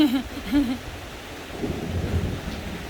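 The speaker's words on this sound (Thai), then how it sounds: "ฝนตกค่ะ" Rain falls during a thunderstorm, a soft hiss with low rumbling thunder building in the background, preceded by a brief hooting or warbling tone at the start.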